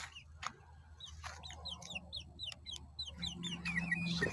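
Chickens clucking softly on a small farm with quails and ducks, a series of short chirpy calls spread across the clip against a low background hum, close by and moderately quiet.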